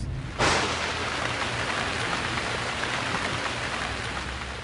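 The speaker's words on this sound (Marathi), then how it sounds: "धोधो कोसळणारा मुसळधार पाऊस" Heavy rain pours down at night in a dense forest beside a highway, a dense, steady roar that starts abruptly and continues unbroken, with no voices.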